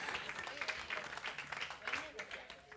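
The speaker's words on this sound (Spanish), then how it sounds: "darle ese aplauso al Señor." Church congregation applauding during a Spanish-language talk, a faint, steady patter of many hands clapping with voices mixed in.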